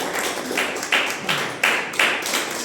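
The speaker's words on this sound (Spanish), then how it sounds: "Denle un fuerte aplauso a los padres." A congregation applauds the parents at a Sunday church service, a dense wash of hand claps with a few sharper surges, moderately close and steady for a few seconds, with no speech over it.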